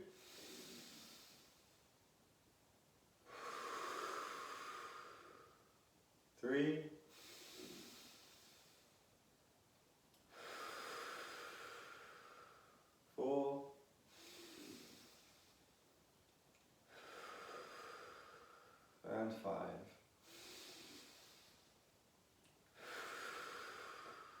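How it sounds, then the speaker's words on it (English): Slow, repeated breaths taken in through the nose and let out through the mouth during a morning movement session, close and quiet, with several cycles and sharp snort-like sniffs between long airy exhales. "breathe in through your nose and out through your mouth for these"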